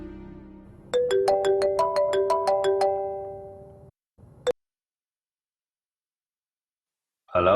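A phone ringtone on an outgoing call plays a quick repeating melodic pattern of bright tones, loud and close, then cuts off abruptly after a short click, followed by silence and a brief voice at the end.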